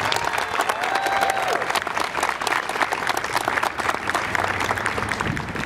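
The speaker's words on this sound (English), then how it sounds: "give them all a round of applause" An outdoor audience at a Veterans Day ceremony in Oxnard, California applauds honor groups including American Legion Riders, a thick, steady roar of clapping lasting several seconds, fairly loud and close.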